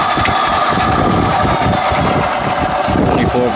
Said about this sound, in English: I'm gonna go ahead and do a little test show of speed on the tire for 24 volts.